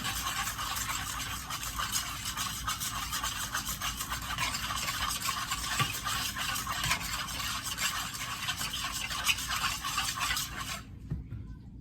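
Cornbread dressing batter with sugar being stirred in a bowl: a steady, close scraping and rubbing that continues for about eleven seconds, then stops abruptly, with no voices.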